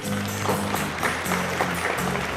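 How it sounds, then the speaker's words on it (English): An audience at a film screening breaks into applause, a moderate wash of clapping heard alongside a low sustained hum throughout. "join me please in clapping, because that is you"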